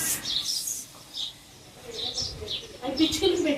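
Small chirps and tweets from sparrows around a home, several short bursts scattered throughout, moderately close and heard under people talking.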